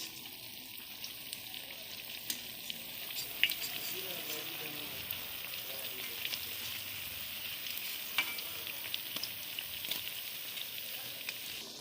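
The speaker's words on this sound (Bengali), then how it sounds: "তো সবগুলো এরকম করে ভেজে নিব" Fish pakora deep-frying in hot oil, a steady dense crackle and sizzle throughout with occasional sharper pops, close and continuous, no voices over it.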